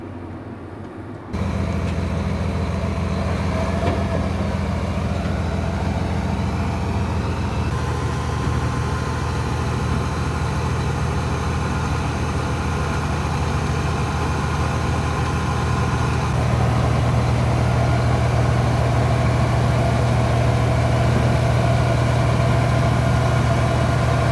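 A tractor engine idles nearby, a steady low rumbling drone that holds unbroken for the whole stretch with no talking.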